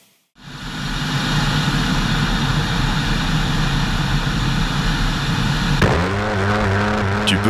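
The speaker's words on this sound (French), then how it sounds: "Tu peux vraiment ressentir la puissance ici, ne serait-ce qu'en regardant cet intercepteur déchaîner toute son énergie" An interceptor jet aircraft engine roars in a loud, steady wall of turbine noise that kicks in after a brief silence and holds, with a tonal whine shifting near the end.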